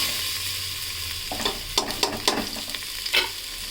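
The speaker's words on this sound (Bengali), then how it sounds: "ডালটা দিয়ে এবার তিন মিনিট একটু নেড়েচেড়ে ভেজে নিতে হবে" Washed dal of three kinds frying and stirred in hot oil with tempered spices for parboiled-rice khichuri; a steady low sizzle carries several scraping spoon strokes that grow more frequent toward the end, with no talking.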